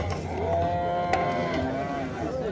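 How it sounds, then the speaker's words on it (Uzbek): A Simmental bull at a cattle market in Boysun gives a long, drawn-out moo up close, with faint crowd murmur and livestock noise behind it. "Mana semental ho'kizimiz"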